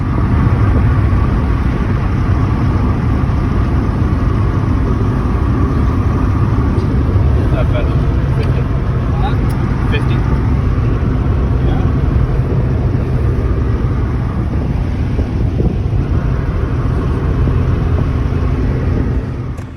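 Interior road noise from a cheap used Honda Accord cruising at about 50 mph, a steady loud low rumble and engine drone that holds evenly throughout with no break.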